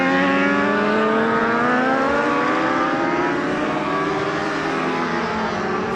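Racing sidecar at a Promosport event at the Croix-en-Ternois circuit, approaching and passing as a loud, high-revving engine whose pitch rises and sweeps across several seconds.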